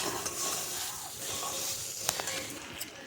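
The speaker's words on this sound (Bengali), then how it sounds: "ভালো করে নাড়াচাড়া করে নেব।" Fried potatoes are stirred into chanachur masala in an oily pan, giving a continuous close sizzle with scraping stir sounds and a few sharp clicks of the utensil against the pan.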